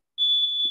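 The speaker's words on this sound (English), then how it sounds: "of course, the alarm started going off" An electronic alarm gives one loud, steady, high beep lasting about half a second, alone and close, with a brief low thump at its end.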